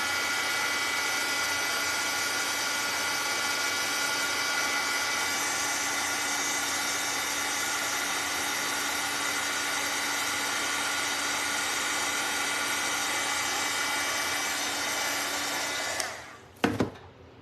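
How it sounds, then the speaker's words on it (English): A hair dryer blows with a steady, loud whirring hum for a long stretch while drying gingerbread ornaments, then cuts off abruptly, followed by a few brief clicks. "I'm gonna hit these with the dryer."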